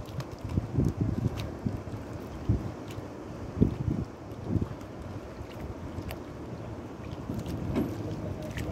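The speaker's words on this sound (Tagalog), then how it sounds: "Double engine yan." A double-engine motorboat runs with a low, steady rumble and some wind and water noise, heard from on board at moderate loudness with a few louder thumps.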